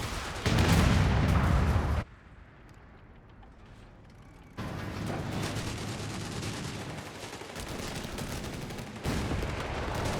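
Infantry gunfire in Company of Heroes 3: dense, continuous bursts of rattling fire that drop out briefly for a quieter stretch, then resume loud and sustained against battlefield noise.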